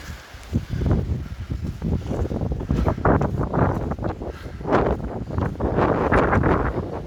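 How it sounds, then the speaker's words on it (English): Strong wind buffets the microphone in steady, loud gusts with rumbling low roar throughout, no voices heard, on a wet, windy day at Wentworth Castle Gardens. "It's very windy"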